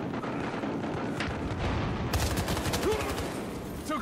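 Rapid hip-fired gunfire in the multiplayer shooter Battlefield Hardline, a dense rattle of shots at steady volume that grows sharper and busier partway through, with faint game ambience and no talking.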